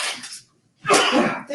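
A sharp sneeze bursts out after a brief breathy intake, loud and close, with a short pause between.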